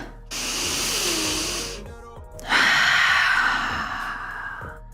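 Deep, slow breathing in a yoga pose: a long, loud exhale, a short pause, then a second long breath, close and alone with no talk.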